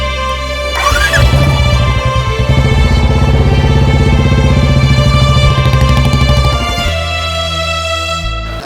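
A motorcycle engine fires up and roars loudly and steadily close by, holding a rough, rumbling drone for several seconds before dropping off as it pulls away, with music playing underneath.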